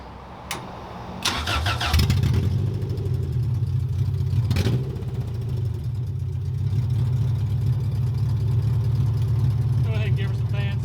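A dirt-track race car engine, a Honda VTEC setup on a Talladega short track, cranks and fires after a sharp click, then settles into a loud, steady rumbling idle close by.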